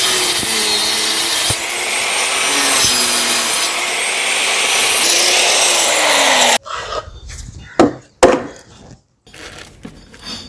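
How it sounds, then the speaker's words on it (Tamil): Plywood being cut into a hexagon with hand tools: a steady, loud rasping saw stroke for several seconds, then scattered sharp knocks and scraping bursts with short gaps of near silence. "அந்த ப்ளேவுட்டை ரவுண்ட் ஷேப்பில் மார்க் பண்ணி டூல்ஸ் வச்சு ஹெக்ஸாகன் ஷேப்பில் அதை கட் பண்ணிவிட்டு"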